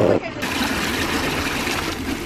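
Water splashes from a public fountain in a city street, a continuous close trickling and spattering that runs steadily throughout.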